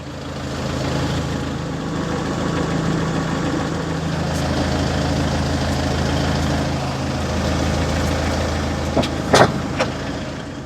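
A tractor engine runs steadily close by with a deep continuous rumble, and a few clanks sound near the end.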